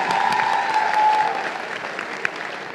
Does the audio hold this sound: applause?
yes